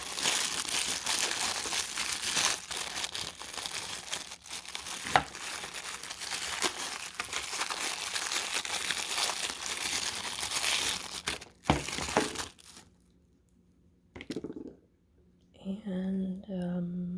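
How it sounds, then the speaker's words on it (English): Plastic wrapping crinkles and rustles almost continuously as it is peeled off a Vastfire hunting flashlight, close and fairly loud, stopping near the end before a brief voice speaks. "I have to take the plastic off of this before I charge it."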